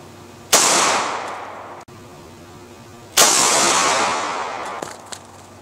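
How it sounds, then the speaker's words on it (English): Two loud, close gunshots from a Taurus PT92AF pistol firing 9mm +P Critical Duty rounds through denim into ballistic gel, each a sharp crack with a long decaying echo, a few seconds apart, with no talking. "We're going to fire this through four layers of denim and the calibrated gel."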